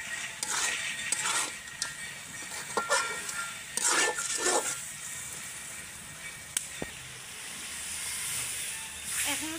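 Liquid poured into a hot pan of beef curry hisses and steams, with clattering of utensils and pan knocks in the first few seconds before the hiss settles into a quieter steady simmer.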